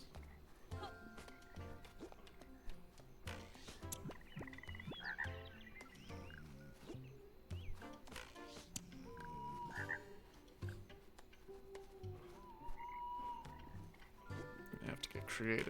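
A frog croaks repeatedly in the storybook video game The Plucky Squire, short throaty calls scattered among clicks, chirps and other busy game sounds, with a voice talking throughout.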